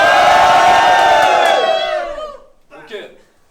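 Loud crowd at a rap battle cheering and shouting as one sustained roar that fades after about two seconds, followed by a brief burst of voices.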